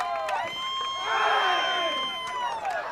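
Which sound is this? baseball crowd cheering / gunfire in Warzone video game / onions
baseball crowd cheering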